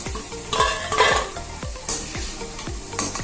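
Elephant foot yam pieces fry in oil in a pan while being stirred: a steady sizzle with repeated scraping strokes of the spoon at a regular pace, close and clear, with no talking.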